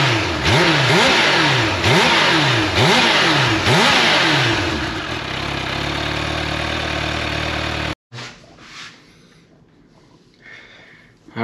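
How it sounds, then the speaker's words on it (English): A stock supercharged Kawasaki Ninja H2 motorcycle revs hard in repeated rising and falling blips, loud and close, then settles into a steady roar before cutting off abruptly, leaving faint rustling. "at least you'll be able to hear the supercharger"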